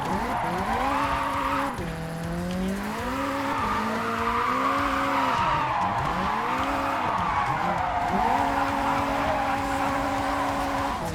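A car engine in a driving video game revs hard at full throttle while drifting, pitch sweeping up and down through gear changes, with steady tire squeal underneath and no talk.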